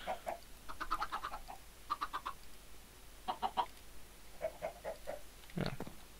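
Chickens in the Minecraft video game cluck in short clustered bursts, several quick clucks at a time with pauses between, clean and moderately loud with no talk.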